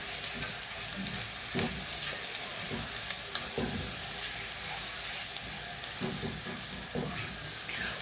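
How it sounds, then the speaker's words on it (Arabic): Kabsa spices stirred into onions in a hot pan, giving a constant loud sizzle and frying hiss with scattered scraping knocks from the stirring utensil throughout. "هنزل دلوقتي بالبهارات اللي انا وريتها لكم، بهارات الكبسه. بهارات الكبسه اللي عندنا هنزل بيها كلها. هشوحها بالبصل كده."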